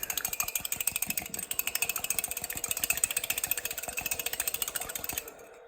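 A small whisk beats an egg in a bowl with fast, steady, rhythmic clinks of metal against the bowl, fairly faint and close, continuing for several seconds before stopping, with no talk.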